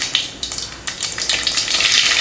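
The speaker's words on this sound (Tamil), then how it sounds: "எண்ணெய் ஊற்றி எண்ணெய் காஞ்சதும் கொஞ்சம் கடுகு உளுந்து" Mustard seeds and urad dal sizzle in hot oil while tempering for radish sambar: a steady close crackle with scattered sharp pops, alone and without speech.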